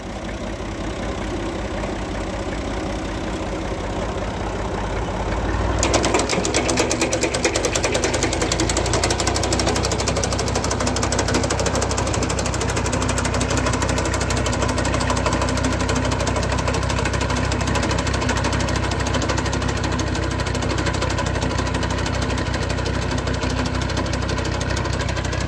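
Tractor-driven alfalfa cutting machine starting up after a low hum, then a loud, steady mechanical roar with rapid knocking and vibration that continues unbroken, with no talking.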